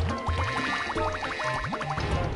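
Water sounds in Super Mario Galaxy 2: bubbly, liquid blips and gurgles in a quick repeating pattern, loud and close, with game tones layered over them.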